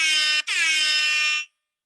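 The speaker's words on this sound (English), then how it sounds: "We need more air horns for Dave." An air horn sound effect blasts two loud, bright honks, a short burst and then a longer sustained blare that cuts off abruptly into silence.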